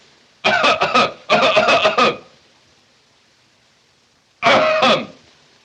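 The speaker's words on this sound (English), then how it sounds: "I cough when I want to." A man coughing in a 1929 film: two close bursts of rapid hacking coughs, a pause, then one more short burst, loud and alone.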